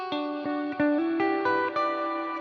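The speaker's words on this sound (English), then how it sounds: "you can hear the previous reverb still ring out" Guitar notes played through a reverb pedal keep ringing and sustaining as earlier tails blend under each new pluck, a steady shimmering wash with no speech.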